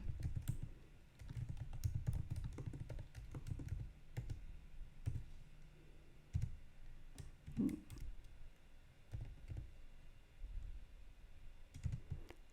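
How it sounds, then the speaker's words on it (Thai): Rapid, uneven keystrokes clatter on a computer keyboard while text is typed into a report cover design in Canva, with close clicks and short pauses between bursts across the whole stretch. "ก็พิมพ์ปกติไปเลยนะคะ"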